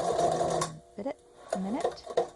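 A sewing machine stitches a handmade fauxdori notebook insert, its mechanical whir running in short bursts with pauses, while a person talks over and between the stitching.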